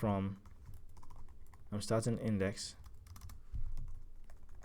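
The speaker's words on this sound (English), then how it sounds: "sorry, my typing is bad" Keys clatter on a computer keyboard in quick, uneven bursts, soft and close, with someone talking over them in short phrases while he codes.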